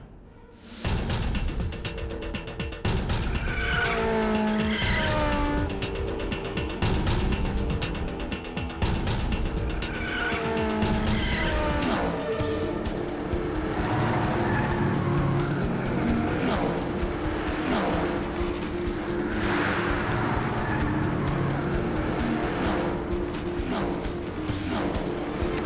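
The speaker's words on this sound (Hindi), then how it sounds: "डोमिनिक और कबीर खान के बीच आज तक जितनी रेसेस हुई हैं, मुंबई रेसिंग एसोसिएशन से कोशिश करके उनकी वीडियो फुटेज हमें मिले" Race cars tear past on a track with squealing, skidding tyres, engines roaring and rising in repeated surges, loud and continuous, with no talk over them.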